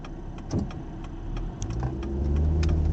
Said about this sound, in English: That's my granddad's old truck.